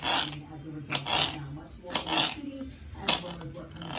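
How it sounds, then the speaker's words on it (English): A knife slicing bell peppers into long thin strips on a cutting board, giving a few sharp clicks and scrapes of the blade against the board, with a low background hum. "you're going to cut your peppers like this"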